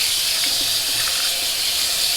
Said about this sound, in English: Some nice cold Lake Michigan water here.